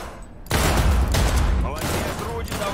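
Sustained gunfire from the video game Cyberpunk 2077, a loud dense burst of shots starting abruptly and continuing with a roaring, overlapping rattle for over two seconds, with talk mixed in.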